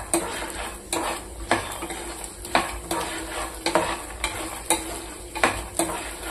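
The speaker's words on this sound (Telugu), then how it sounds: "ఇవి కూడా లైట్ గా వేగనిద్దాము" Coconut, tamarind and garlic fry lightly in a pan for a peanut chutney, with a soft sizzle underneath repeated stirring clinks and scrapes of a spoon against the pan.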